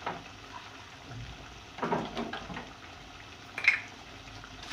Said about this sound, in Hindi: तो 1 गिलास पानी में डाल रही हूँ इस चिकन को गलाने के लिए।